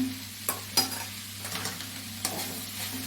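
Mackerel thoran is stirred in a frying pan, with a steady sizzle underneath and several sharp scrapes and clinks of the spoon spread across the stir.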